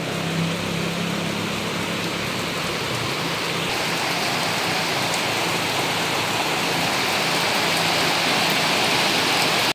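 Heavy rain pours down in a dense, unbroken roar, heard from a waiting shed, that stays loud and even from start to finish, with no voices.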